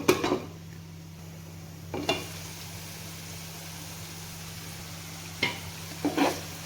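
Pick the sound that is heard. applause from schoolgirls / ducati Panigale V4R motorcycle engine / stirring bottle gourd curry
stirring bottle gourd curry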